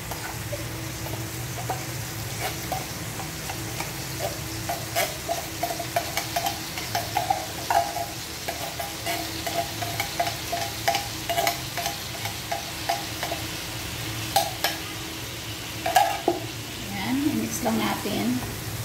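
Corned beef frying in a pan while being stirred, with a steady sizzle under repeated scraping and clinking of the utensil. Someone speaks now and then.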